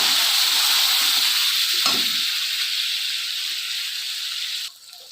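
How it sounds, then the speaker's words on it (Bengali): Spiced masala with chili powder sizzles steadily in a pan as it is stirred for a prawn malai curry, a loud continuous hiss with a brief scrape partway through, then the sizzle drops sharply near the end. "আবারও আমি পুরো একটু নেড়ে নেব মিশ্রণটাকে"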